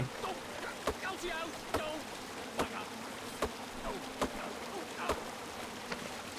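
Bees buzz in the King's Quest video game, a thin steady drone under a series of evenly spaced sharp knocks, like a hatchet striking a tree. Flat ambient game sound sits beneath it.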